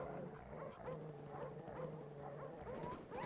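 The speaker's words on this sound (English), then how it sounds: "Quit shooting my dogs." Attack dogs in the Call of Duty: Black Ops shooter game bark and yip in quick, repeated bursts over faint game background noise.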